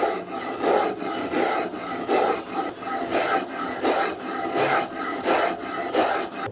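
Food being ground by hand on a traditional grinding stone in a Ugandan home kitchen: steady rhythmic rasping and rubbing strokes, roughly two per second, loud and close, with no voices.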